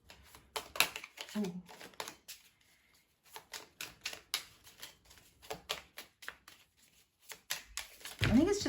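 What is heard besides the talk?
tarot cards being shuffled and drawn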